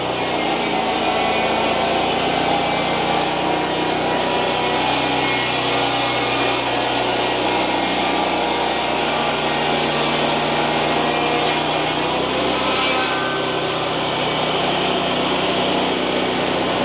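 Sawmill blade running steadily through spruce during a bevel cut for siding, a loud continuous mechanical whine and roar that holds evenly throughout with no speech.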